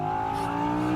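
A 2018 Audi R8 RWS Spyder with a 5.2-litre V10 gives a brief, loud, steady engine drone, heard close up with no voices over it.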